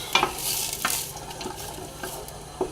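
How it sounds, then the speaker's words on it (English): A wooden spoon stirs chopped onion and carrot in a soup pot, giving a few scraping strokes over a soft, steady sizzle at close range, with no one speaking. "We're gonna stir it with a wooden spoon"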